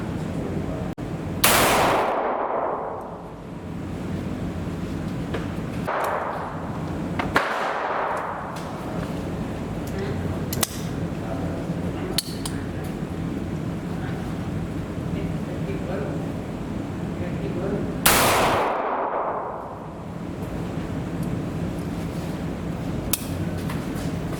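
Sharp, very loud gunshots from a Bond Arms Roughneck .45 pistol, three spaced reports several seconds apart with ringing decay, under ongoing talk.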